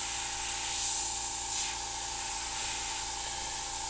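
An airbrush sprays paint in a steady, close, hissing stream that swells slightly for a moment before settling back to an even hiss, with no voices.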